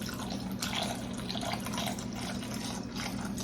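Turkey roasting liquid pours in a steady splashing stream for a few seconds, loud and close, with a low hum underneath.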